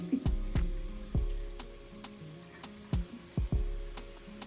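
Balls of puff puff dough fry in hot oil, with a steady bubbling sizzle broken by several sharp low thumps and clatters from a pan or utensil, close and fairly loud.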